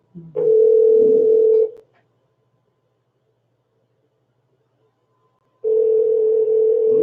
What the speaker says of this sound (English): Pick up, don't be shy. It only rang twice.